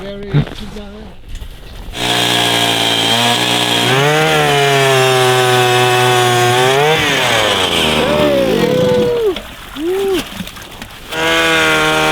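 A gas-powered ice auger bores through thick Arctic ice, its engine loud and close, revving up and down with short pauses between bursts. Brief voices come just before it starts.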